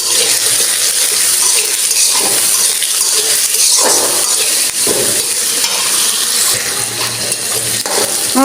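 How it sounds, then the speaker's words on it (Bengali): Onions frying in a pan at home ahead of cooking a poultry curry, giving a loud, steady sizzle with stirring scrapes throughout and no talk. "আমার পেঁয়াজটা সুন্দর করে ভাজা হয়ে গেল"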